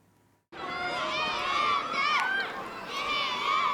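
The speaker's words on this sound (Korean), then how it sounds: "학생들의 힘찬 함성이 울려 퍼집니다" Schoolchildren shout and cheer together outdoors while running races, a loud, sustained crowd of young voices with high, rising shouts after a sudden start.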